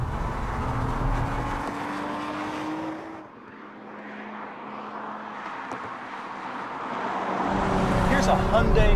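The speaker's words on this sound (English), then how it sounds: "Here's a Hyundai sports car with a better sounding V6 than the Nissan 370." Hyundai Genesis Coupe V6 engine droning steadily while driving, a low pitch that rises in tone and then fades out midway before a louder surge of engine and road noise returns near the end.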